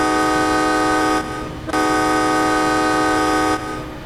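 A strong, steady train horn in Train Sim World 5 on an MBTA commuter train out of Boston, loud and sustained with a brief break partway through.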